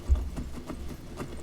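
A horse in the video game Skyrim climbs a hill, its hooves clip-clopping in a quick, steady rhythm of soft thuds, moderately quiet and close.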